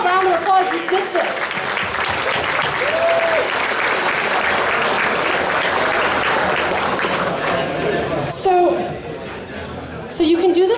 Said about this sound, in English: give yourselves all a round of applause